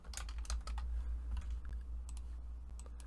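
Computer keyboard typing, a quick burst of close clacking keystrokes over a steady low electrical hum, thinning out into a few scattered taps toward the end, with no voice.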